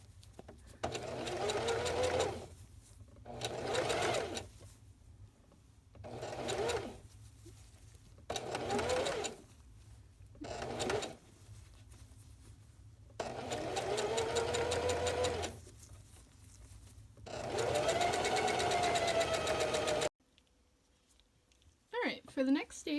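Domestic sewing machine back stitching a double-layer fitted cloth face mask along the center seam, running in repeated bursts with short pauses between, close and steady, ending in quiet handling sounds.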